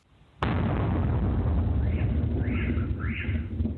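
A sudden loud sonic boom from an aircraft going supersonic bursts in after near-quiet, followed by a sustained rumbling roar that lingers and fades unevenly.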